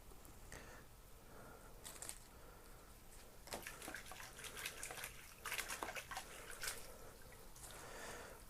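Water rinses freshly divided Dracula vampira orchid plants during repotting, faint splashing and dripping in a few bursts, quiet and close, with no talking.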